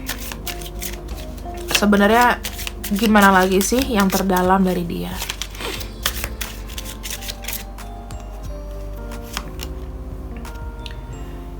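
Tarot cards are shuffled with soft, repeated riffling and ticking card sounds, while someone speaks over the first half and the shuffling continues more clearly afterward.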